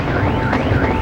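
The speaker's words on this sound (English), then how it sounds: "Oh, there goes the alarms." Alarms wail with wavering tones through dense, constant noise in a parking lot during a fireworks show over the falls.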